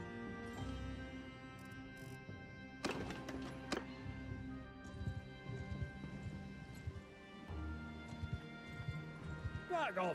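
Horse hooves clip-clop in a medieval cavalry video game, a quiet patter of taps broken by a few sharper thuds and knocks.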